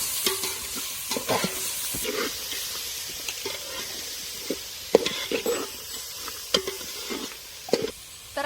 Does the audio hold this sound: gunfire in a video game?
no